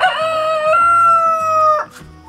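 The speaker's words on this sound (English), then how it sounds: "We have some new young chickens that we're adding to our laying flock here." A rooster on a homestead crows once, close and loud, a long strained call that holds steady before breaking off abruptly, with no talk over it.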